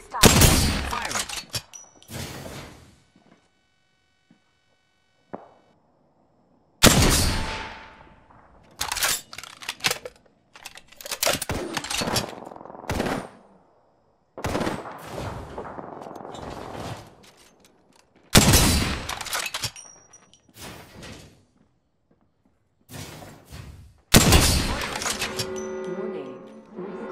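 Bursts of gunfire in the battle royale game Apex Legends crack out in separate volleys with quiet gaps between them, loud and sharp, with a voice speaking now and then.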